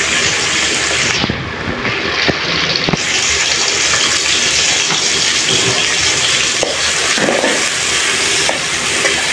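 Loud, steady sizzling of chopped onions frying in oil previously used for frying chicken, a continuous hiss with a few soft clinks, close by.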